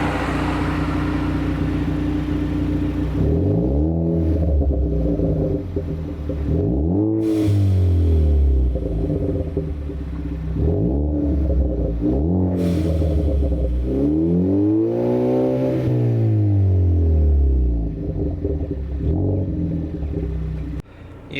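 A 2013-2016 Ford Focus ST fitted with a COBB catback exhaust revs repeatedly, each rev rising and falling in a sweeping arc, loud and close, with a long held rev before settling back to idle.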